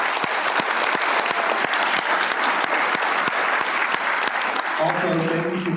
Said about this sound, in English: If we could give Bondry a round of applause.